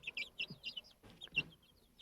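Colombian Lohit Brahma hens on a small hobby farm give a series of soft, close clucks in short irregular bursts over a quiet background.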